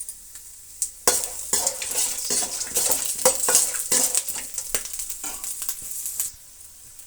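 Mustard seeds, chana dal and peanuts fry in a pan for rice bath, giving a steady crackling sizzle with repeated scrapes and clinks of a spoon stirring against the metal. The stirring stays close and busy, then settles after about six seconds.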